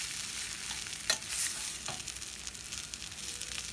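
Spiced potato subzi with red chili powder being stirred in a hot pan, a continuous sizzle with a few soft scraping stirs of the spoon, close and steady with no talking.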